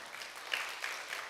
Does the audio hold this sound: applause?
yes